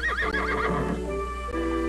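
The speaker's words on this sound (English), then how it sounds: "I'm afraid we're gonna have trouble with that loco stallion." A spirited stallion on a western ranch lets out a loud, close neigh. The whinny falls in pitch and trails off over nearly two seconds, with a low steady hum underneath.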